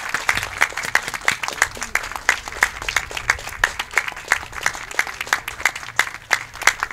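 At a music camp, an audience gives a duo a rhythmic round of claps: sharp, evenly spaced hits that keep a steady beat over a soft crowd wash and stay fairly loud throughout.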